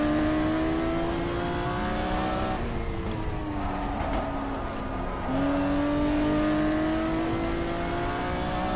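A Chevy Corvette race car with a 5.7-litre engine roars steadily in the GTR2 racing game, holding a high drone, dropping briefly as it shifts, then climbing again, loud and continuous.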